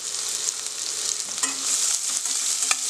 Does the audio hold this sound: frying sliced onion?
yes